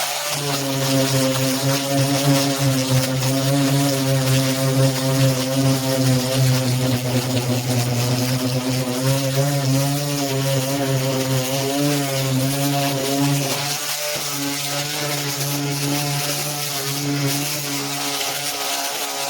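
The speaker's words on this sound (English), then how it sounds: "we're going to sand this bit here now, guys" A small mouse sander works on wooden kitchen trim, with a steady, loud motor whine and a gritty buzzing hum running continuously, dipping slightly near the end.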